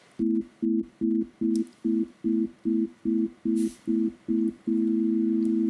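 Sus2 chord synthesized in Desmos, pulsing in eleven short evenly spaced electronic beeps before settling into one sustained tone, clean and steady with no voices.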